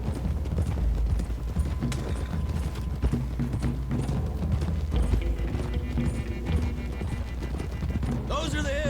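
Horse hooves clip-clop in a steady galloping rhythm in Red Dead Redemption 2, loud and close under a game soundtrack and bits of character talk, ending in a brief whinny-like sweep.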